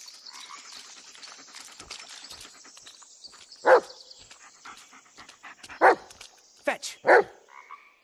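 A dog in The Blair Witch video game lets out several sharp, close barks, spaced apart and separated by softer panting and small rustles.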